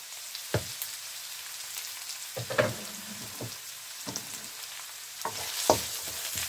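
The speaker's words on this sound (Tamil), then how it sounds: "இது எல்லாத்தையும் போட்டு கொஞ்ச நேரம் வதக்கி கொள்ளுங்க" Sliced onion and garlic sauté quietly in a pan for a millet vegetable pulao, with a soft, faint sizzle broken by a few scattered stirring clinks and scrapes.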